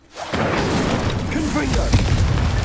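Confringo explosive spell going off in the Hogwarts Legacy video game, a sudden loud boom that rolls into a sustained rumbling blast amid game effects and talking.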